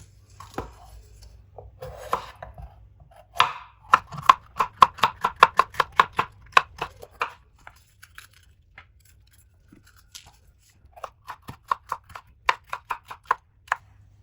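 A knife cuts red bell pepper on a board in quick, close runs of crisp chopping taps, two bursts separated by a short pause, with no talk.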